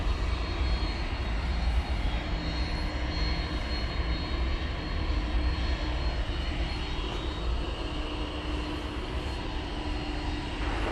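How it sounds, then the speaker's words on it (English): An MD-11 jet taxis at DFW airport at night, its engines giving off a constant heavy rumble and whine. The sound is loud, continuous and unbroken, with no talk. "Oh, now the MD-11 is on the move."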